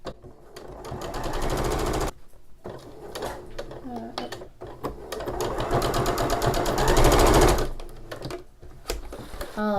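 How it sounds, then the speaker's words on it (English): Sewing machine stitching a vintage doily onto a pillow cover, running in steady rapid bursts that stop and start, close and fairly loud, with brief pauses and some light handling noise between runs. "continue sewing so it'll have that little opening there"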